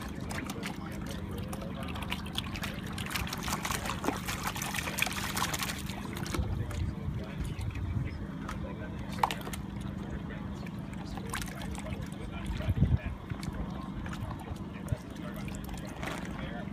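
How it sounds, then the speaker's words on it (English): Gold concentrate from a trommel is panned fast and aggressively in water, with sloshing, splashing and trickling swirls that rise and fall over a steady low background, close by. "I'm going to pan it kind of fast and be really aggressive with it."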